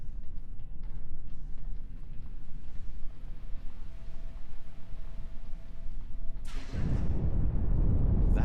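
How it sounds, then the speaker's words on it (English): An explosion in Star Trek Online bursts in near the end, a loud, broad roar that blows a breach. Before it comes a low rumbling game ambience with a faint steady hum. "That was an explosion of sufficient magnitude to cause a breach."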